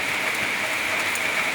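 Steady, heavy evening rain falling outside a house: a dense, unbroken hiss of drops on surfaces, even in loudness from start to finish, with occasional slightly sharper splashes.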